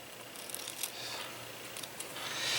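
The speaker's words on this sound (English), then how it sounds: "we're going to actually cut these in half." Scissors cut Christmas ornament pieces in half, a faint, brief snipping close by against a soft hiss.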